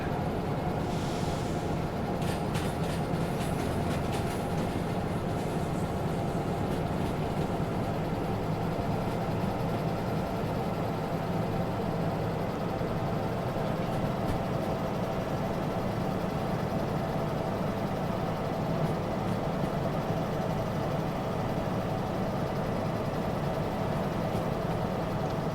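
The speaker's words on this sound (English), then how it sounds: "These two locomotives are really handling this this job very nicely" Two DE2 diesel locomotives in Derail Valley running under load on an uphill, a steady dense engine rumble and drone that holds constant throughout without breaks.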